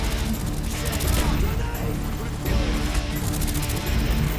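Continuous heavy machine-gun fire in a Call of Duty: Black Ops firefight, loud and dense, with overlapping bursts and someone speaking over the shooting.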